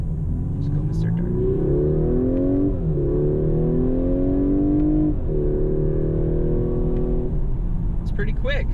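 An Audi A5 Sportback four-door coupe accelerating hard through four gears, the engine note climbing steadily and dropping briefly at each upshift, loud and close as heard from inside the car.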